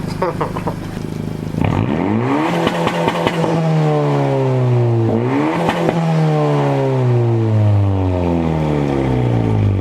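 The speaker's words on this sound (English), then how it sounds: "I just want to show you guys the launch control, or as some people call it, two-step" A 2017 Honda Civic Si with a Hondata intake and a muffler delete revs loudly on launch control. The engine climbs and falls in repeated sweeps, with crackling two-step bursts and a brief dip in between.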